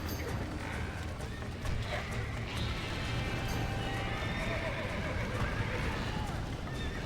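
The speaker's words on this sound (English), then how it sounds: "Now let's save the horses!" Horses neigh and their hooves clatter in the Western video game Red Dead Redemption, a steady busy mix of whinnies and galloping beneath a voice and game sounds.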